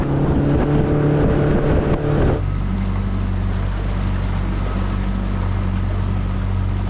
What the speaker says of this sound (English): I need to finish the break-in procedure on my new Mercury 150 jet motor.